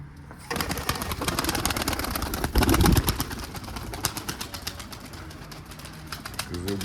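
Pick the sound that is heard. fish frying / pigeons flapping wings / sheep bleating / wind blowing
pigeons flapping wings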